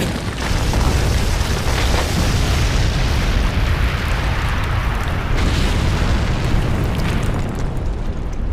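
A massive anime super-move explosion destroys the Alamo, a loud, sustained roaring blast with rumbling debris that fills the whole stretch and slowly thins out toward the end.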